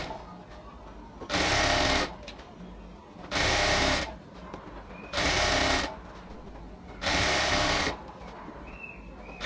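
A sewing machine stitches elastic into the waistband of a ladies' pant in four loud bursts of about a second each, separated by quieter pauses with faint handling and a voice between runs.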